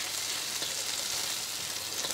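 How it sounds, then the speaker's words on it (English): Eggs and mixed vegetables stir-frying fast in a hot pan give a steady, dense sizzle that runs unbroken and fairly loud, with no talking over it. "this is a stir fry, so we want to quickly fry these, all these different elements."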